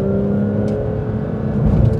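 A Porsche 992 GT3 RS engine pulls hard through a corner on a test drive, a loud, steady, close-up roar with rising revs toward the end, no talking over it.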